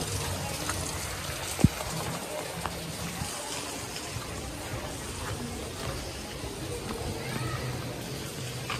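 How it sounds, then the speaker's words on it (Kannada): Heavy rain falls steadily as a broad, even wash of noise throughout, with a brief sharp knock partway in and no one speaking. "ಬಾ ನೋಡು ಎಷ್ಟು ಮಳೆ ನೋಡು"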